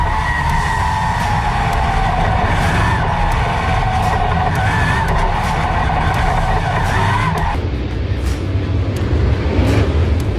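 A RUSH Crate Late Model race car roars steadily at Winchester Speedway while warming its tires, a loud, continuous engine drone with a distinct shift in tone near the end.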